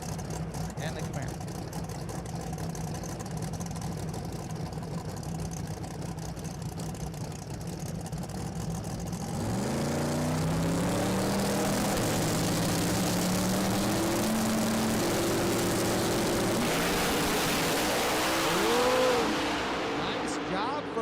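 A Pontiac Firebird and a Chevrolet Camaro drag racing at The Strip at Las Vegas Motor Speedway during the Street Car Super Nationals: engines idle and rumble, then a loud roar rises and sweeps as the cars launch, with commentary talking over it.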